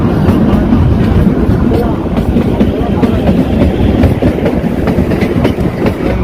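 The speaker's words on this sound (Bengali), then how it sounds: "মনে হচ্ছে যেন গোলাপে পাপড়ির উপর দিয়ে আমাদের ট্রেন এগিয়ে চলছে" The Kalka–Shimla toy train rolls along its narrow-gauge tracks with a loud, continuous rumble and steady clickety-clack of the wheels, heard close from on board.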